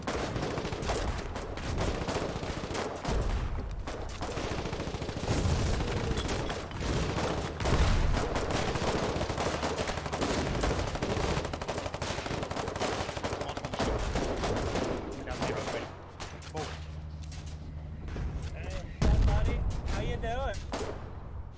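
Gunfire in the war video game Foxhole, repeated shots and bursts crackling over a busy battlefield soundscape, with someone talking over much of it.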